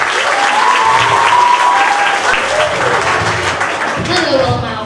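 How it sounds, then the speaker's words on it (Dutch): An audience claps for a contestant at a youth prince election, a loud continuous round of applause with voices speaking over it. "applaus voor Jen"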